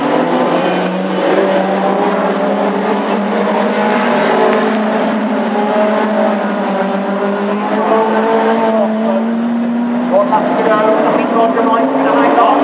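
Classic hot rod race cars roar around an oval at Northampton on the final lap, a loud continuous engine drone with shifting pitch as cars pass, while a commentator talks over it.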